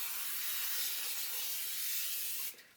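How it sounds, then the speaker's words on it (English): No-stick cooking spray hisses steadily from an aerosol can into a preheated Dutch oven, one continuous close spray for about two and a half seconds before cutting off abruptly. "I'm going to spray the inside with no-stick spray."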